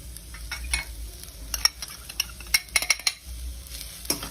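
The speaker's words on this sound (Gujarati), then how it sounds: "અને 2 મિનિટ માટે આપણે આવી રીતના મિક્સ કરતા રહીશું" Vegetables for spring roll filling being stirred in a pan, with a low sizzle under repeated scraping and clinking of a spoon against the pan, the knocks clustering in the middle.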